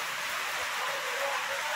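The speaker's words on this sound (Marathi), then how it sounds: "आज खूप सारा पाऊस पडला ना." Heavy rain falling steadily outdoors during the monsoon, a dense continuous hiss with no break and no voices.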